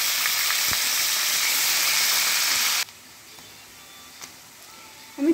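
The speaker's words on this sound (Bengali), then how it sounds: "এবার আমি আলুগুলো ব্রাউন করে ভেজে নেব।" Potato pieces fry in hot oil with salt and turmeric, a loud, steady sizzling hiss that suddenly drops to a much quieter simmer partway through, with a faint clatter near the end.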